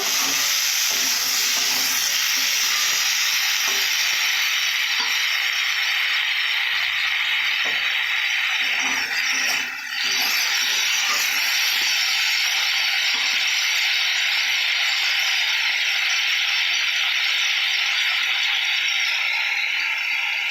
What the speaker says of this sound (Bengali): এইভাবেই কিছুক্ষণের জন্য ভালো করে কষে নেব